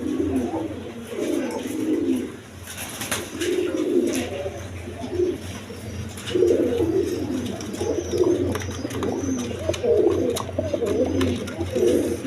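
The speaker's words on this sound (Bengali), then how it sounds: "ইন্ডিয়ান কালদম কবুতর, দেখেন দেখার মতো কবুতর" Indian Kaldam pigeons cooing in repeated low throaty bursts, several birds close by over a steady background hum, with faint voices now and then.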